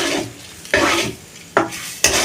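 Lentils (dal) fry in a pan while being stirred, with three distinct scraping stir strokes over a steady hiss of sizzling, close and fairly loud, with no talk.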